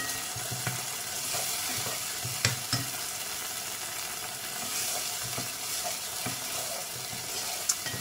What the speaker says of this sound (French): Et je mélange bien.